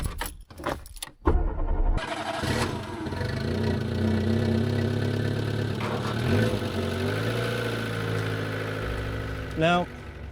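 A Renault Twingo starts after a few clicks and key rattles, then settles into a steady close idle with a short rev, while a person talks over the engine.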